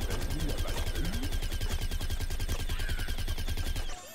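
Rapid gunfire in Plants vs Zombies Garden Warfare rattles in quick, regular bursts amid busy game noise, loud and continuous before cutting off abruptly at the end.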